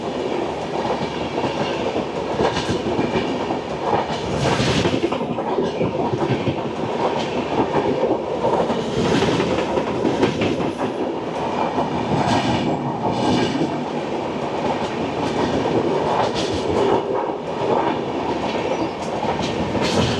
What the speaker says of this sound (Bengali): এবার আমাদের পাস করবে ট্রেন নাম্বার 14620 ফিরোজপুর ক্যান্টনমেন্ট থেকে আগরতলা ত্রিপুরা সুন্দরী এক্সপ্রেস